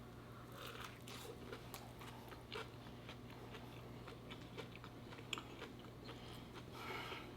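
Someone bites into and chews a crispy fried chicken sandwich with apple in it, making soft crunches and wet chewing. The sounds are close but very quiet, with no talking.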